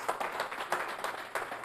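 A church congregation claps loudly at a Sunday service, a brisk, dense burst of applause with sharp accented peaks, heard alone with no talking over it.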